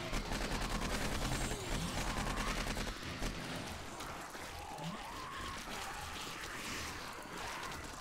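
AK-47 fire in the zombie survival game 7 Days to Die comes as dense, rapid bursts for the first few seconds, then thins into a rougher, quieter wash of shots and game noise.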